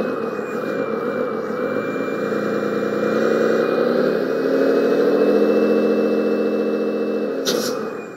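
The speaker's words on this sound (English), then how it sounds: "it only runs when the engine sound is turned on" Simulated engine sound from an Orlandoo Hunter OH32T01 Scania RC truck: a steady, buzzing synthetic motor drone with a faint high whine, rising slightly mid-way, then ending with a brief click.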